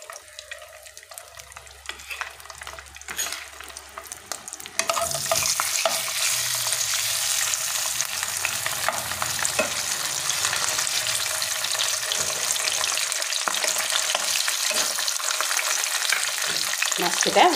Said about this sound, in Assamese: প্ৰথমতে মাছখিনি ভাজি ল'ম